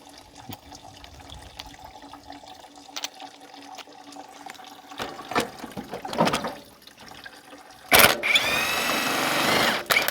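Coolant drains from the radiator of a 1988 Ford truck, a faint trickle with scattered tool clicks that swells into a loud, steady rushing pour toward the end.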